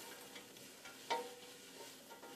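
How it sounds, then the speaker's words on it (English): Soft sizzling of vegetables in hot oil with a brief scrape and clink of a utensil stirring in a pot, quiet and close. "I'm going to give that a little stir so that everything can get coated in the oil."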